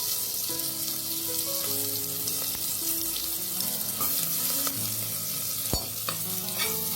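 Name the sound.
onions frying with spices until golden brown for paneer biryani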